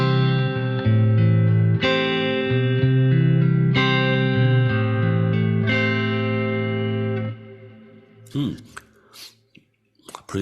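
Electric guitar played through a Kemper Profiler with reverb added: a series of ringing chords with long, smeared tails that trail off, followed by a few faint handling noises near the end.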